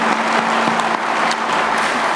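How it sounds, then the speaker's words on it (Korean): Crowd at a public ceremony on advanced industry strategy for the Yeongnam region claps for an introduced city mayor, a brief, loud, even burst of many hands with little talk. "우리 박수나 한번 보내주시면 더 열심히 일하실 것 같습니다"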